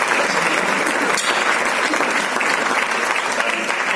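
An audience at the Liga Endesa 2018-19 presentation event applauds, a loud, continuous, even wash of clapping from a crowd close by, sustained throughout without pause.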